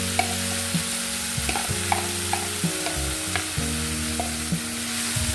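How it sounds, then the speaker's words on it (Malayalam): Spoon stirring a mango pickle spice mixture in a pan with the flame just turned off, a steady scraping swish with light sizzle underneath, close and continuous with no talk. "എല്ലാം കൂടി നന്നായി മിക്സ് ചെയ്ത് കൊടുക്കാം."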